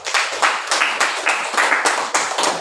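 A small classroom group clapping hands together, a quick run of rhythmic bursts of claps, fairly close and loud, with no talking.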